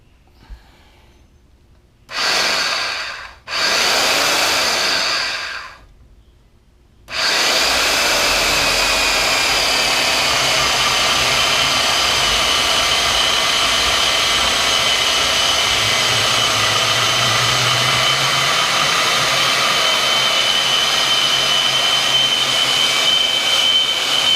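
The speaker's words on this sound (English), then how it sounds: "I'm going to take my bandsaw and cut" A bandsaw cuts through a steel trailer tongue extender for a Can-Am cooler rack, with two short whining bursts followed by a long, loud, steady cutting roar close by.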